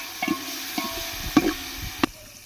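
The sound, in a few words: ginger garlic paste frying in oil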